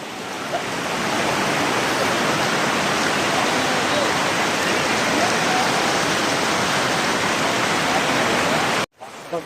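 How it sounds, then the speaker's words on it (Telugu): The Dumpavalasa waterfall at Maredumilli pours in a loud, dense, unbroken roar close by, filling the scene before cutting off abruptly near the end. "ఇదే దుంపవాళ్ళతో వాటర్ ఫాల్స్ వాటర్ ఫాల్స్ బాగుంది"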